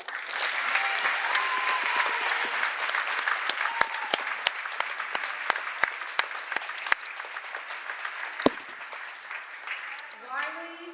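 Steady applause from a crowd at a girls' high school basketball game fills the whole stretch, honoring senior players, with sharp individual claps standing out and a voice coming in near the end.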